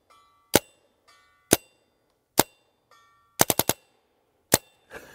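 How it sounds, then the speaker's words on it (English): An SMG 22 pellet gun firing: single sharp cracks spaced about a second apart, then a rapid burst of four, then more lone shots, close and loud, with no voices. "The harder you press the trigger, the faster rate the pellets will come out."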